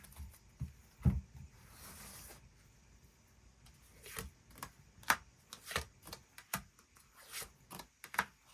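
Tarot cards being shuffled and drawn from a deck, a series of soft, brief slides and flicks at close range, spaced irregularly over a quiet background.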